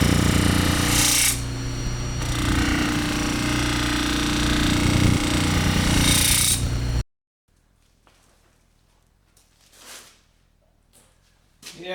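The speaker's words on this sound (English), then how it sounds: "Stainless compound on a ventilated wheel." A ventilated buffing wheel loaded with stainless compound polishes auto glass for a 1965 Corvair, giving a loud, steady close-up whir for about seven seconds before it stops, leaving near quiet with faint handling noises.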